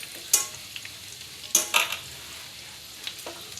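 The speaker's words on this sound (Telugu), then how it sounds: "ఇప్పుడు అల్లం ముక్కలు కూడా వేసుకుందాం." Ginger pieces fry in a pan for pulihora while a spoon stirs them, with three or four short scraping strokes over a soft sizzle and quiet gaps between.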